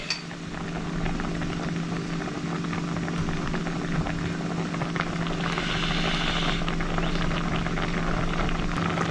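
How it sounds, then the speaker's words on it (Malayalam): Clam meat curry with raw mango and coconut paste boiling in a pot, a dense, steady bubbling and crackling hiss that runs loud and unbroken, close by, with a faint low hum beneath. "മാങ്ങ ചേർത്ത് കഴിഞ്ഞിട്ട് കറി തിളയ്ക്കാൻ തുടങ്ങിയിട്ട് കുറച്ച് സമയമായി."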